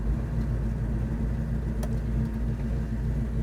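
A 1969 Chevrolet Chevelle SS engine idles at a steady, even low rumble, close and unbroken with no throttle blips, running alone without talk.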